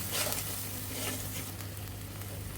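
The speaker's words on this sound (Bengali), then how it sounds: "এখন পরিমাণ মতো লবণ দিয়ে ভালোভাবে এখন একটু কষিয়ে নেব" Okra sautéing with salt in a pan, a moderate sizzle and crackle with light spatula stirring, steady and close, no voices.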